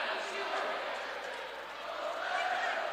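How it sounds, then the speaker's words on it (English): Fans at a high school state volleyball quarterfinal cheering in the gym, a dense sustained roar that swells and dips, with a commentator talking over it. "Got the crowd fired up in the background"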